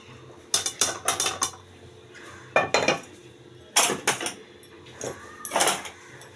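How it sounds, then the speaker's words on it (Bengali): Cooked boal fish curry is tipped from a pan onto a plate, marked by a series of sharp metallic clanks and scrapes of cookware coming in short close bursts with quiet gaps between. "গ্যাস অফ করে এবারে মাছটা আমি ঢেলে দিচ্ছি থালায়"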